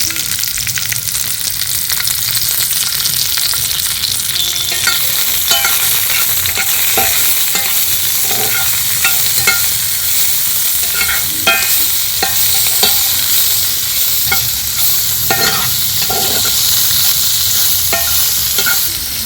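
Thickly cut onions and grated garlic fry loudly in a pan, a dense constant sizzle with repeated spatula scrapes and knocks throughout.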